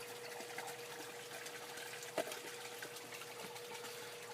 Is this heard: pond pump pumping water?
yes